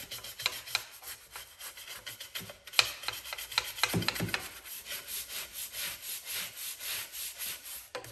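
Scrubbing a soaked part from a Baldor industrial pedestal grinder during a garage restoration: steady rhythmic rasping strokes, close and fairly loud, continuing without pause and with no talk.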